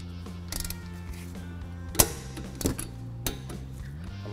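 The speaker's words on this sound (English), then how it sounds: "Torque the lower caliper slide pin bolt, 27 foot-pounds." Torque wrench checking a lower caliper slide pin bolt during brake work, a faint mechanical hum with a few sharp metallic clicks and ratchet-like ticks, quiet and close.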